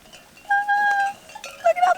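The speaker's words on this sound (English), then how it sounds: "Look at all the sheep." A flock of sheep in the desert bleats in a few overlapping wavering calls, close and fairly loud, with brief gaps of quiet between bursts.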